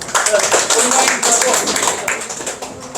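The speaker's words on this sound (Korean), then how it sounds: "다시 한번 박수" Brief round of clapping from members at a Korean friendship club's autumn gathering, a close, steady patter of hands with a voice talking over it.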